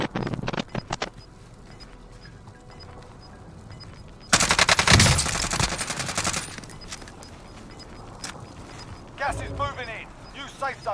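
Gunfire in Call of Duty Warzone (Cold War season, Krig 6 rifle): scattered shots early, then a loud close burst of rapid automatic fire, followed by more distant sporadic shots while players talk.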